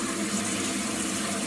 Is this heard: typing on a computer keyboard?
no